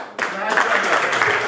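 Applause breaks out abruptly at an awards ceremony, a sustained burst of crowd clapping with voices mixed in, fairly loud and close.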